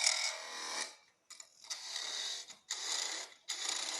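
A spindle gouge cuts wood on a lathe in four sustained bursts of bright, scraping hiss, separated by short pauses as the tool lifts off, close and moderately loud, with no talk.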